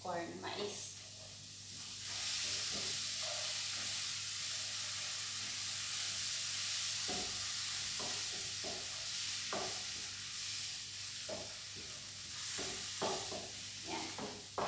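Beef with garlic, onions and sweet corn sautéing in a pan: a steady close sizzle runs throughout, broken by repeated scraping strokes from stirring.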